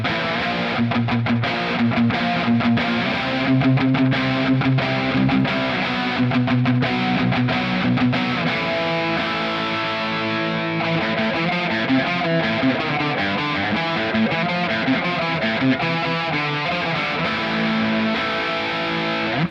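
Fender Player Plus Stratocaster with noiseless pickups played through a high-gain distorted tone, sustained chords and riffs ringing out loud and dense, no voices.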